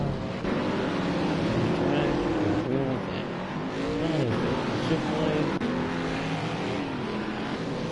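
A stock car from a CSKL season 13 race roars past on the oval track, a loud engine whine rising and falling as it passes, under a continuous steady engine drone, with a commentator talking over it.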